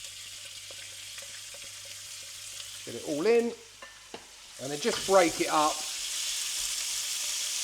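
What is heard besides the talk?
minced meat frying in a hot wok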